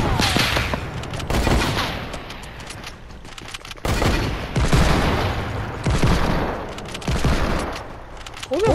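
Gunshots in Fortnite, near and loud, with repeated automatic bursts and heavy booms running through the clip, mixed with game noise and little talk.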